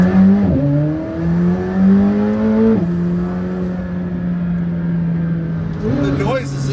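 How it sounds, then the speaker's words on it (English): A Porsche engine revs as it accelerates toward the speed limit, the pitch climbing through several gear changes with drops between them, loud and close from inside the car. "You want to feel a little bit of the power? We can accelerate to the speed limit."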